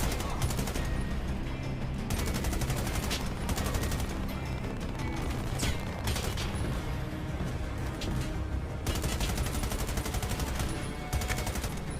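Rapid bursts of automatic gunfire from a video game played on an ASUS TUF A17 gaming laptop, dense and continuous, with short pauses between volleys.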